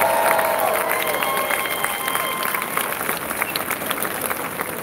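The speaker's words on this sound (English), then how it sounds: "Let's give them a big round of applause." Large crowd at a cruise ship naming ceremony in Long Beach applauding steadily, dense and sustained, with a faint tone sliding at the start.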